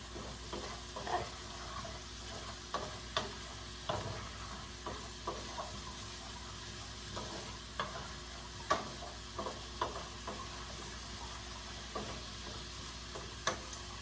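Vegetables sautéing in a pan for Steak Diane give a quiet, steady sizzle with scattered ticks and scraping stirs, no voices present.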